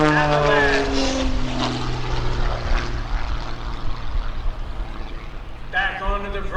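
A Wolf Pitts aerobatic biplane's propeller engine drones loudly and steadily at an airshow, its pitch sliding as the plane maneuvers, with a commentator talking over it.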